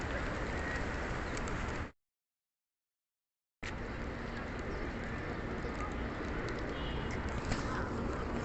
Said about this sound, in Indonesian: burung banyak.